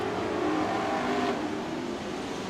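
Pure stock race cars roar around an oval track in a continuous, steady engine drone with a slight swell mid-way, heard close and loud without talk.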